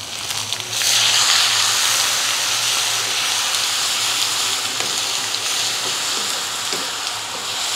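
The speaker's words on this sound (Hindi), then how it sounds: "अब मैं इसमें डाल दूंगी अदरक लहसुन का पेस्ट" Ginger garlic paste hits hot oil with golden fried onions for a tandoori chicken biryani, setting off a loud, steady sizzle with crackling pops that carries on alone without pause.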